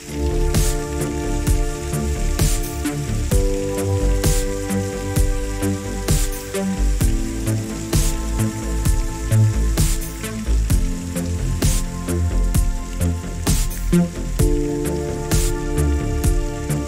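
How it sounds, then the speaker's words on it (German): Heavy rain pounds on the roof of a small lodging beside the Rio Canyoles in Spain, a dense continuous pattering punctuated by sharp drips and gurgling water, with a faint tonal hum underneath. "Der Regen prasselt auf das Dach und überall gluckert es"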